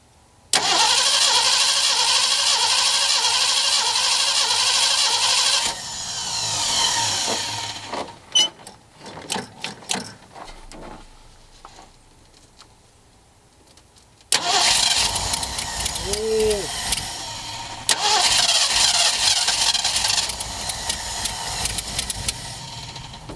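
A carburetor-fed engine cranks and fires after fuel is added to the carb, catching and running loudly in two long bursts separated by a pause with clanks and rattles in between.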